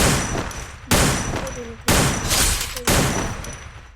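An M590 shotgun in a video game fires four heavy, booming shots at roughly one-second intervals, each followed by a short mechanical cycling sound and fading echo.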